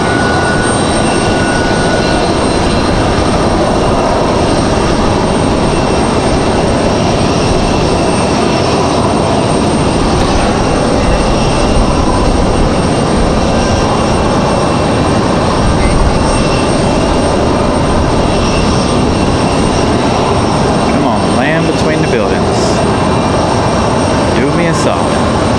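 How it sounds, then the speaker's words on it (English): Airbus A220 airliner on landing approach at Raleigh-Durham International Airport, a loud, steady broadband engine roar that holds for the whole stretch without letting up. "A220 coming in noisy fashion there."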